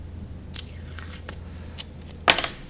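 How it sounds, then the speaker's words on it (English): A small piece of tape torn off close up, heard as a few sharp, brief snips and rips spaced across a quiet moment, with a low steady hum running underneath. "So I'll take a little piece of tape"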